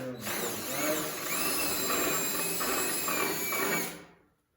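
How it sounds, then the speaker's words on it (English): A power drill bores a hole through a wooden marten box, one close, loud whirring burst of about four seconds that winds down at the end, with no voices. "drill a hole in the center of the box on a 45 like that, and the same in the back of the box"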